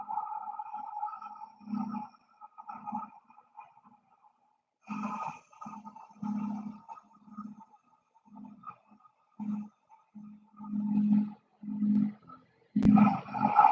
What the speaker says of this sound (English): I still think of it as Darth Vader breath because it makes a sound like Lord Vader